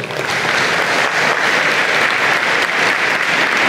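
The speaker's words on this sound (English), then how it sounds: "So can we give those groups a big round of applause?" A large convocation crowd at an engineering and computer science ceremony gives a loud, sustained round of applause, a steady wash of clapping throughout.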